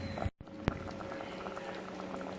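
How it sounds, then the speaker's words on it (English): Mango, onion and spices boil in a pot, a quiet, continuous bubbling with a brief dropout and one sharp tick near the start. "the mango and onion and spices have been boiling away for about 15 minutes"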